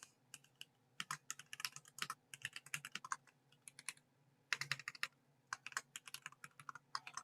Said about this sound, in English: if you hear me typing